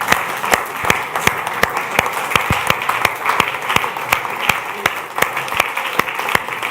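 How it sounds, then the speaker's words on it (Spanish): A church congregation applauds, with distinct sharp claps standing out in a loose rhythm over a continuous bed of crowd clapping, while faint voices run underneath. "dele un aplauso gigante a Dios"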